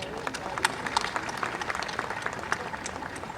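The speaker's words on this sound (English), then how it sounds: "I think this requires a cheer, everyone." At a book launch interview, the audience breaks into applause, scattered claps pattering steadily at a moderate distance with a crowd murmur underneath.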